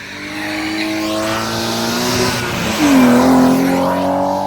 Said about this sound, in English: now we're by some drift cars